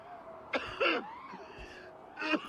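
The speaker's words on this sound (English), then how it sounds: "he coughed" A man in Assassin's Creed: Origins, a priest of Anubis, coughs a few times in short, rough bursts, with a throat-clearing rasp between them, fairly quiet and close.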